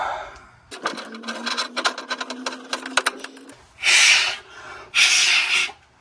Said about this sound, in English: I just wanted to blow through it to make sure I got any debris from cutting out of it